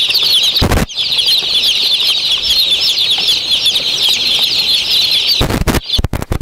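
Chicks in a box chirping densely and continuously in a high, close chorus, with short bursts of wing flapping near the start and end.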